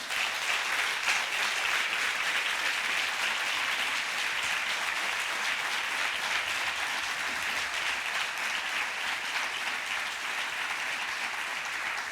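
A church congregation bursts into sustained applause, a thick, even wash of many hands clapping at once that stays strong for the whole stretch before easing slightly toward the end.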